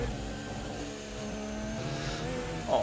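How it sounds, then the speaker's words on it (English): Formula 1 car engine from a racing video game mod, a steady high-pitched racing whine that holds its pitch through the clip, with a brief rise near the end. "I'll let you guys, as always, enjoy the engine sound of this mod"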